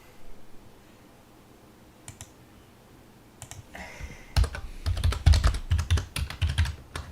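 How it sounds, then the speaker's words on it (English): Keys clatter on a computer keyboard right beneath the microphone, starting with a few isolated taps, then breaking into rapid, loud, close typing bursts that continue to the end, with no one talking. "I tried to type a little, what do you call it? A little quieter for you, Carl."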